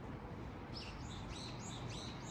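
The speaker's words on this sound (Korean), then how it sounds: "새소리 들린다 너무 좋다" Faint bird chirps sound in short repeated tweets against a soft, steady outdoor background hiss at a seaside deck in Sokcho, South Korea.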